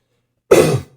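A single short, harsh cough, close and loud, after a moment of silence.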